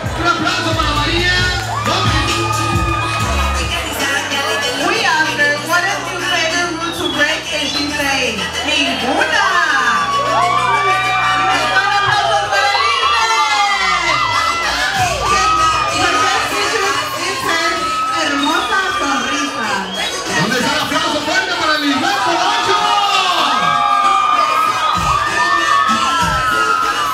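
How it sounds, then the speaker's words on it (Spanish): Loud crowd at a bikini contest in a packed venue, cheering, whooping and shouting continuously with scattered clapping and children's yells, over music and amplified voices throughout. "Un aplauso para María."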